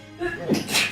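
One quick, sharp sneeze bursts out close by, over a faint background murmur.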